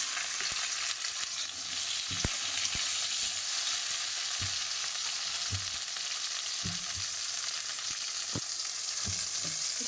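Potatoes fry in hot oil with five-spice tempering, chopped tomato and a bay leaf, giving a steady loud sizzle broken by sharp spatters and the scrape of stirring.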